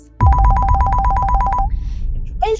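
An electronic telephone ring sound effect bursts in suddenly with a rapid warbling trill that lasts over a second, then gives way to brief noisy fragments.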